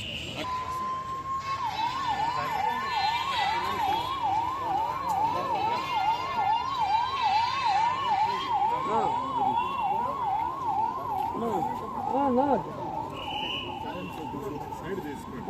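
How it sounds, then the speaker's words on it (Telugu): An ambulance siren wails in a steady rising and falling cycle for the whole stretch, with voices briefly heard beneath it toward the end. "అంబులెన్స్"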